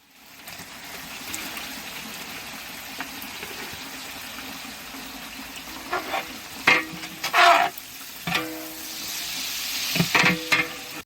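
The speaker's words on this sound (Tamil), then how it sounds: "ஒரு நாலு நானூறு கிராம் அளவுக்கு வெங்காயம் ஸ்லைஸ் பண்ணி வச்சுருக்கேன் அதையும் ஆட் பண்ணிக்கலாம்" Sliced onions, about 400 grams, fry in a large pot for an 11 kg chicken biryani. A constant close sizzle builds as the onions go in, and clattering stirring bursts and splashes come in the second half, with no speech.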